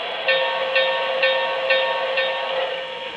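HO scale model steam locomotive, a big articulated engine, running with sound effects turned up loud: steady rhythmic chuffing with regular puffs about every half second, continuous and close.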